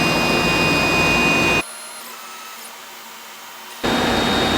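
A CNC plasma table on a dry run of its first cut, checking plate position for rock sliders for a 1998 Jeep Grand Cherokee ZJ, gives a loud, steady broadband whir that drops away for about two seconds, then resumes.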